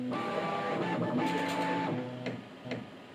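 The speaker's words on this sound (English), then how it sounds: "The feed plate starts to rotate, and the filament is fed smoothly." A Bambu Lab P1S 3D printer loading filament hums steadily with a motor whine and stepped tonal shifts, close and alone, easing off near the end with a few light clicks.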